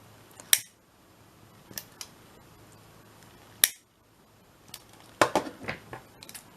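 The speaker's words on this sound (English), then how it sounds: "Just snip that end bit off." Scissors snip through scrap paper while a journal cover is trimmed: a sharp single cut, two lighter snips, another crisp cut, then a flurry of quick rustling snips near the end, close and fairly quiet.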